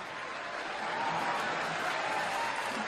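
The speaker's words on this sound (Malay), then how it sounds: "Saya dengar banyak tepukan malam ini" A crowd applauds with steady, dense clapping that holds at an even level for the whole stretch, with no voices standing out.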